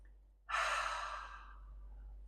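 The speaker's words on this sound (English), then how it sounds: "Take a deep breath," A single deep breath drawn in and slowly let out during a calm guided tapping exercise, close and clear, with no talking.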